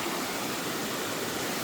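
Waterfall seen from above, a steady close roar of falling water, even hiss-like rush with no breaks and no voices.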